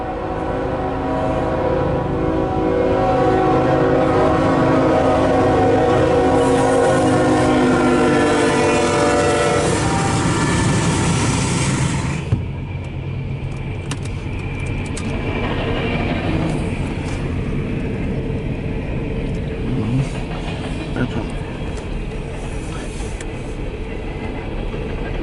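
A CSX empty coal train rolls past loudly for the first half, its horn blaring with stacked harmonic tones, then the noise drops to a steady rumble of passing cars and wheel clatter.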